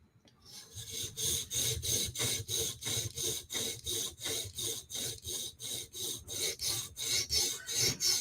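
A knife blade being sharpened at the heel on a stone, a steady rhythmic rasping of about twenty even back-and-forth strokes, close and fairly loud with no talk.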